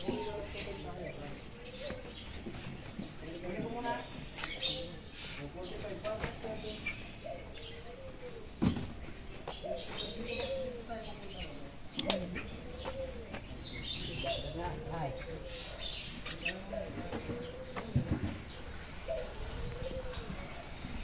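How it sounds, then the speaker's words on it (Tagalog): Assorted birds chirp and call in the background at a zoo, with several sharp high calls, while people talk nearby throughout. "iba-ibang klaseng ibon"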